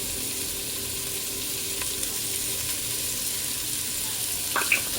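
Onions and garlic fry in a pan, lightly salted, with a steady loud sizzle that fills the whole moment and a few faint stirring scrapes near the end.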